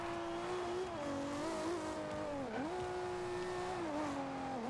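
In Forza Horizon 2, a tuned Toyota Supra race car brakes hard into a corner, its engine note dipping and rising with revving shifts and a brief tire squeal, loud and continuous throughout.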